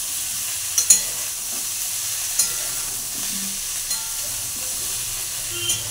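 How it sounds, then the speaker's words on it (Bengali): Cauliflower, potato and onion fry in a wok while being stirred up from the bottom, giving a steady close sizzle with scattered scraping clicks of the spatula. "ফুলকপি ও আলু পেঁয়াজ কিছুটা ভাজা হয়ে এসেছে, আমি এটা আবার তলা থেকে নেড়ে দিলাম"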